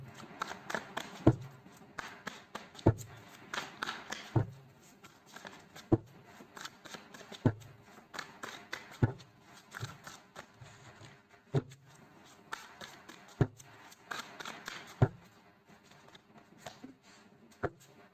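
Tarot cards being shuffled and pulled for a reading, a soft papery riffle with sharp periodic taps and slaps every second or two, close and moderately quiet, with faint talk now and then.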